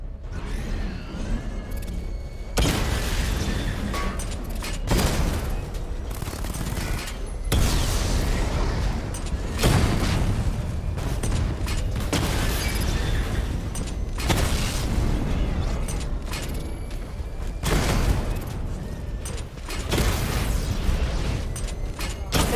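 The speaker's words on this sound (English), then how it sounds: "Charge up missile barrage to level 2 and destroy 4 active targets to complete diagnostic test." Missile barrage explosions in Batman: Arkham Knight, a series of loud, heavy blasts and booms with mechanical clanking. They come in rapid bursts that nearly fill the whole stretch, with short gaps between volleys and no talking.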